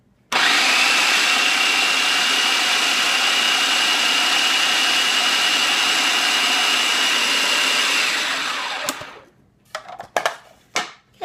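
A food processor grinds cake into fine crumbs for snowflake cake pops, a loud, steady whirring motor drone lasting about eight seconds before it winds down, followed by a few clattering knocks.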